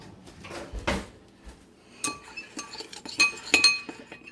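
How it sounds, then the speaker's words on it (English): A spoon clinks against a bowl while stirring pumpkin spice and salt, giving a few scattered, close metallic taps and scrapes with short pauses between them. "And then mix it with the spoon."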